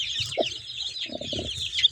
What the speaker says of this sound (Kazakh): Жаңа тауық қораға келсем, үшін құрқылдап дауыс шығарып жатыр.